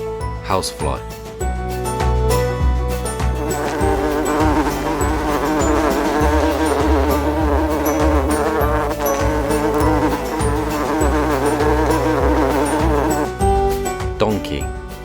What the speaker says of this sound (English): housefly.